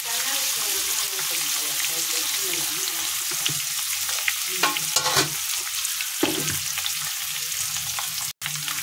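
Egg masala sizzles in a pan as turmeric and chilli powder are stirred in, a steady frying hiss with scraping spoon strokes and a few sharper clatters near the end.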